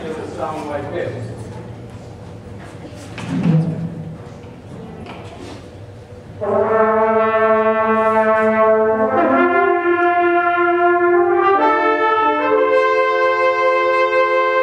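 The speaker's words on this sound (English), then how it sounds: "And if we add the trumpets to that with the same tune, then it will sound like this." In a children's concert, a brief stretch of people talking and handling sounds gives way to French horns and trumpets playing the same tune in unison, with bright sustained notes rising in steps, loud and close.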